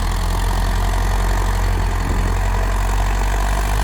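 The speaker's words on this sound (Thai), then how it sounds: "ทำการไถตากงานดินนะครับผม กับ เจ้า รถไถฟอร์ดนะครับผม" A Ford tractor ploughs and turns over soil beside a railway line, its diesel engine running in a steady, loud, continuous drone close by with no talking.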